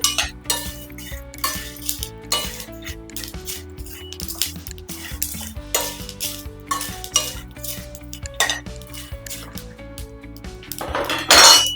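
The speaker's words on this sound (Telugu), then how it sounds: "ఒక నిమిషం పాటు వేడి చేసుకోవాలి ఇలా తిప్పుకుంటూ వేడి చేయడం వల్ల మనకి మాడకుండా ఉంటాయండి" Peanuts are stirred while roasting in a kadai, a spoon scraping and clinking against the metal pan in a steady, repeated rhythm with rattling nuts, close and clear with no talking.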